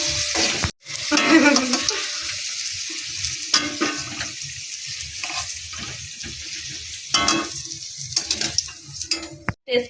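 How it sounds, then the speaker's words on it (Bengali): Rinsed bay leaves and spices hit hot oil in a home kitchen, giving a loud crackling sizzle that swells and fades in bursts, with stirring and an abrupt brief break near the start. "তেজপাতা ফোড়নে দিয়ে দিলাম, তেজপাতাটা একটু ধুয়ে নিয়েছি"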